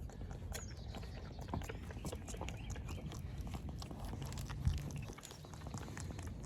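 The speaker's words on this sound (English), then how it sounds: "They're gonna chew all over the camera." Farm animals at a historic early-1900s farm nibble and chew on a camera, making close, irregular knocks, crunches and scrapes with one sharp bump near the end.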